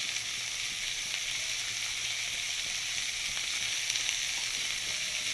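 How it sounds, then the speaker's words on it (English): Vegetables sauteing in a pan over a medium flame, a steady bright sizzle and crackle that stays even and close for several seconds, with no voices. "Just saute them for a minute."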